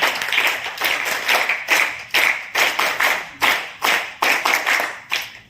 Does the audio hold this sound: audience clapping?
yes